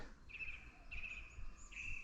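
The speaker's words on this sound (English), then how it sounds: "now you can say, oh yeah, that is a song thrush" A song thrush sings in winter, repeating a thin, high whistled phrase three times at regular intervals, faint and somewhat distant over a quiet background.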